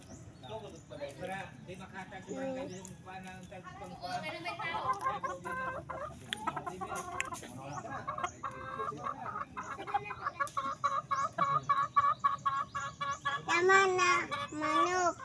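Chickens cluck and squawk close by, busy and overlapping, with people talking throughout and the clucking growing denser toward the end.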